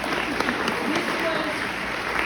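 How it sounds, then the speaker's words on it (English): An audience applauds a first-time filmmaker, a short, even stretch of clapping with speech mixed in. "Let's applaud this woman."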